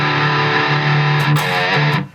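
A distorted electric guitar plays a short, loud riff of sustained, buzzing notes, heard alone with no voice, then cuts off abruptly at the end.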